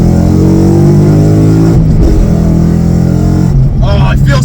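A Ford Mustang engine revs hard as the car accelerates, a loud, close, rising drone with gear changes and engine pitch sweeps, under a voice talking.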